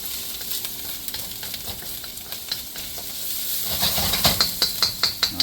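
Ginger and garlic sizzle and fry in a hot pan while being stirred, a steady close hiss with scraping stir strokes that grow louder and more frequent toward the end, no talking.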